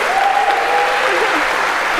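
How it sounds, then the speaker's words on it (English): A lecture-hall audience at a CS50 computer science class applauds a student volunteer, steady dense clapping filling the room throughout, with a faint whistle-like tone and some voices mixed in. "a huge round of applause for Yulia"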